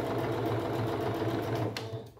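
Sewing machine stitching through fabric scraps for a handmade rug, a steady close, loud whirring hum for about two seconds before it slows and stops.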